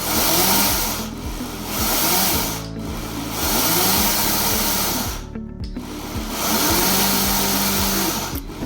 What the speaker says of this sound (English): you're going to put it in your blender and keep pressing the pause button